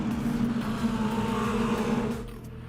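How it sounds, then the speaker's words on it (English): Four-cylinder mini stock race car engines in iRacing at USA, a steady buzzing drone of several cars circling together, loud and continuous, easing slightly toward the end. "Hear those 4 cylinders ripping around here."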